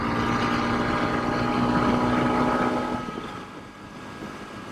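A Honda CRF300 Rally motorcycle accelerating hard in fifth gear on an open road, a loud sustained engine drone with wind rush that rises, then eases and drops in level near the end.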